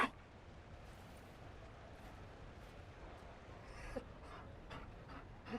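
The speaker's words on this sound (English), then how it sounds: "You found a dog." A Mabari war dog pants in Dragon Age: Inquisition, with faint, steady, breathy rhythmic panting and an occasional small sniff or whimper, alone in a quiet scene.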